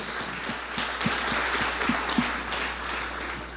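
Church congregation applauding during a worship gathering, continuous clapping with rhythmic beats, moderately distant and somewhat faint against a low steady hum.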